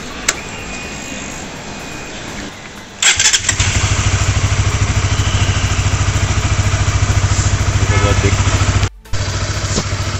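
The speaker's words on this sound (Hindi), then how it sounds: "फिर से एक बार हम लोग इंजन को स्टार्ट करके गर्म कर लेते हैं" A Honda CBR 150R/250R motorcycle engine is cranked, catches with a sharp burst and settles into a loud, steady idle to warm up. It cuts out briefly near the end before running again.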